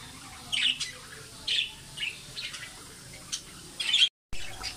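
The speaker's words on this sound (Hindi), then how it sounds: "आप देख सकते हैं कितने प्यारे लग रहे हैं ये बर्ड" Budgies in an indoor breeding colony of cages, giving several sharp, close squawks in short irregular bursts with softer chirps between them.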